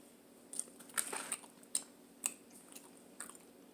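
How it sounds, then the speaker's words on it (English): Crunchy fried egg rolls, browned on both sides, bitten and chewed up close, with several sharp crisp crunches spaced through the moment followed by quieter chewing, no talking. "I like mine to get brown on both sides. That's how I know I'll get that good crunch that I'm looking for."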